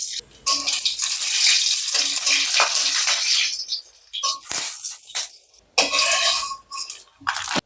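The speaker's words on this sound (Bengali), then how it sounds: "তেল দিয়ে প্রায় 7-8টা শুকনো মরিচ দিয়ে দিচ্ছি। শুকনো মরিচটা ভেজে নেব।" Seven or eight dried red chillies frying in about a tablespoon of oil in a wok, a loud bubbling sizzle in bursts that cuts out briefly several times, with a few clinks and no clear talking.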